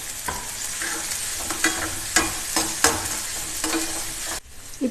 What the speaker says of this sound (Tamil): வெங்காயம் நல்லா பொடியாக கட் பண்ணி வச்சுருக்கேன், அதை சேர்த்துடலாம். அதை சேர்த்து நல்லா வதக்கிடலாம்